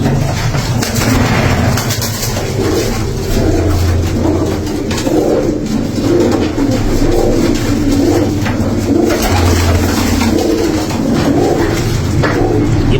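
Pigeons coo continuously and loudly, layered low calls repeating in a steady rhythm with no talking.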